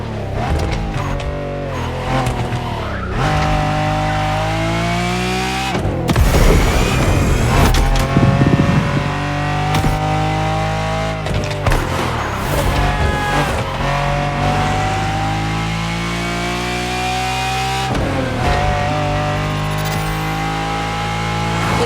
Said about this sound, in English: the first true Lamborghini jewel, the Miura